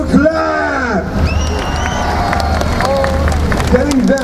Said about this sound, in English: let me hear you make some noise to make sure you're ready. Ready? 1, 2, 3. Let me hear you clap.